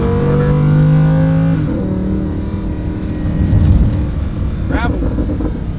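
A Lamborghini Huracan takes a corner, its engine holding a smooth harmonic tone that drops away into a rumbling, rougher roll over the road surface. The sound is close and fairly loud, with voices at times.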